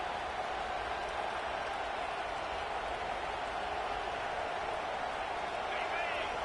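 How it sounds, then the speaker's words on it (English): The crowd at a USC versus Clemson college football playoff game roars in a steady, dense wash of cheering and noise throughout, with a commentator talking over it. "Listen to the crowd energy here in the early going."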